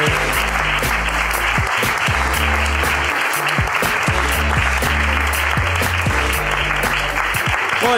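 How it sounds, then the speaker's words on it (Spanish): A large audience applauds loudly and continuously at a live Spanish comedy podcast recording, with dense sustained clapping and a few cheers and voices mixed in throughout. "Un aplauso enorme para Javi."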